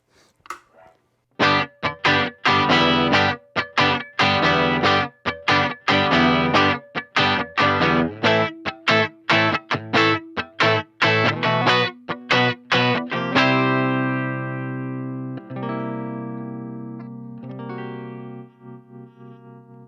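A Telecaster electric guitar plays through the clean channel of a Marshall Class 5 amp: loud, close strummed chords in a quick choppy rhythm, then a final chord left ringing and slowly fading.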